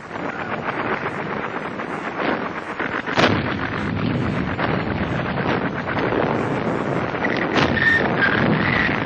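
Distant artillery fire in a WW2 battle scene, with dull booms and one sharper blast standing out against a continuous rumbling, wind-like background.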